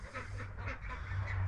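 Ducks quack near a farm chicken house, a noisy cluster of honking, goose-like calls carrying on steadily at close range over a low hum.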